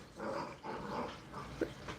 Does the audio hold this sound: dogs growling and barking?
yes